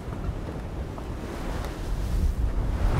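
Strong wind buffeting a sailboat during a storm on the Labrador Sea, a steady loud rushing roar with gusty low rumble from wind on the microphone and sea noise.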